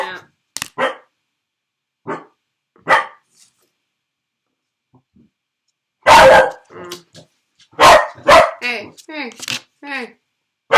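Puppies bark and yip while playing, in scattered bursts that grow louder and more frequent in the second half, with some whimpering and people talking in between.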